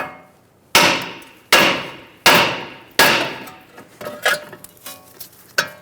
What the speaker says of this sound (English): Using a hammer, we're going to hit around the knuckle near the ball joint and release the tension